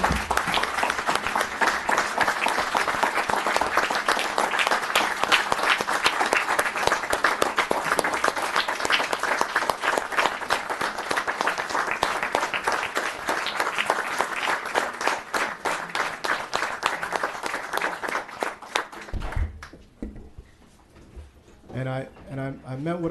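Sustained loud applause from the audience at a town board meeting, dense clapping for about twenty seconds before it fades out, followed by faint sounds of the room.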